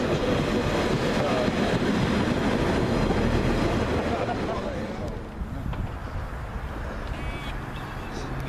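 A Scunthorpe to Sheffield train passing at Swinton, a dense rumbling roar of wheels and carriages that gradually fades, with people talking nearby.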